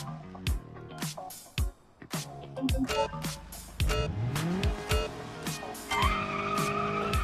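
A car accelerates and brakes in a BeamNG driving game training mission on a track-day mod. The engine revs up and down through gear changes and tires squeal, loud and close, with no speech.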